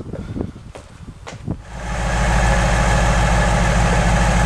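A few faint clicks and shuffles, then a Ford Mustang GT engine fires up in a garage and settles into a loud, steady, deep idle rumble.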